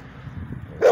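A dog gives a single sharp bark right at the end, preceded by a low, quiet background murmur.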